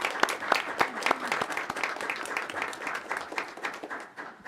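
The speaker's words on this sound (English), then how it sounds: "let's give them a round of applause." Audience applause for school board members at a Harlingen CISD board meeting, a scattered, moderately loud run of claps that thins toward the end, with no voices over it.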